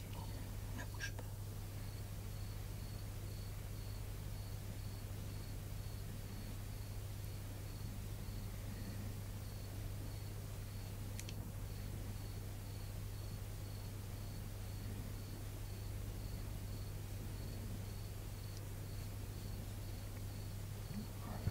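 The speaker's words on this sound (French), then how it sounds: "J'entends les grillons." Crickets chirp faintly in a steady, regular pulse behind a constant low hum, with a couple of brief soft clicks and nobody speaking.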